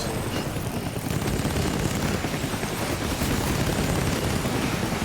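Gunfire in the video game Death Stranding: dense, continuous rattling shots form a steady wall of noise, loud and unbroken across the moment.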